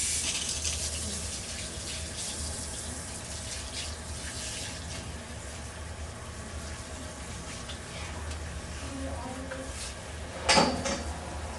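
Steady running water rinsing shampoo out of a client's hair at a salon shampoo bowl, a close, continuous spray and splash with a brief louder clatter near the end.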